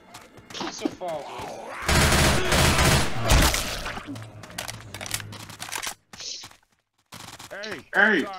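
Gunfire from a first-person zombie shooter, Left 4 Dead 2, heard as a loud dense burst of rapid shots lasting a couple of seconds, then scattered bangs, mixed with in-game character shouts and voices.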